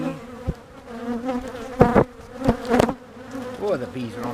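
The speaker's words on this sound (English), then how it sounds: "Boy, the bees are on that camera." Honeybees buzz close around a camera at an open hive, a droning hum punctuated by several loud bumps and bursts as insects brush past the lens, with faint handling noise beneath.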